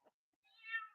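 A domestic cat gives one rising meow, fairly close and clear, after a brief soft earlier sound, with no talking.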